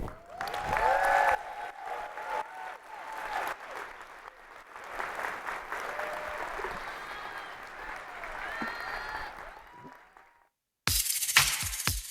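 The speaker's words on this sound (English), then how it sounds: "You can stop clapping." An audience at a general session applauds steadily for about ten seconds, with scattered cheers and voices over the clapping. It breaks off into a short silence, then a brief burst of louder noise follows.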